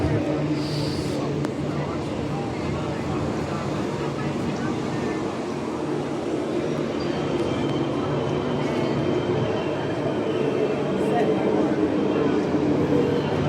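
A-series train set 311 arriving at the new Midland Station on a METRONET line, a steady low rumble and hum running throughout, with voices talking over it.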